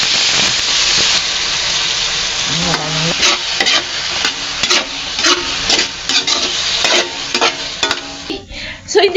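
Sardines sizzling in a hot pan while being stirred, a steady loud frying hiss broken by scraping and clattering spatula strokes, close up.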